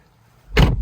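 On a Porsche Cayman 987.1, the frameless power window drops briefly as the door shuts, giving a short close whirring slide that ends in a firm thump after near silence.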